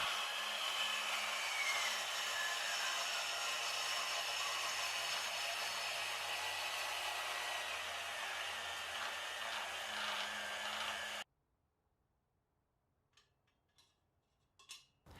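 A Hercules band saw cuts steel flat bar and square tubing with a continuous, even, hissing whine that lasts about eleven seconds and then stops. A few faint clinks follow in the quiet.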